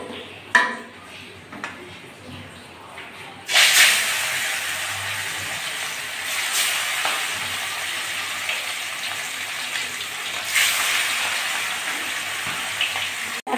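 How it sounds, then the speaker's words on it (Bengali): Rohu fish pieces fry in hot oil in a kadai, a steady sizzle that jumps louder after a splash-like burst of spitting, with brief clinks from the pan. "এখন আমি মাছটা ভালো করে ভেজে নেব"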